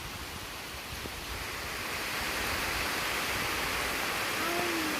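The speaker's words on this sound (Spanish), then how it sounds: "Se nos vino la lluvia" Heavy rain pours down steadily during an afternoon fishing trip, a dense continuous hiss that grows slightly louder, with no voices.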